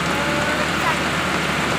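Steady rain falls over a salak fruit garden during harvest, a dense, even hiss of drops on surfaces that stays constant and fairly close for the whole short stretch.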